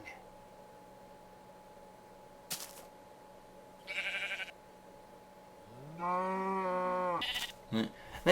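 Faint, sparse sounds give way to a sheep's drawn-out bleat, then a short bleat at the end, all fairly quiet and with a synthetic game-like quality, during a BuildCraft engine test.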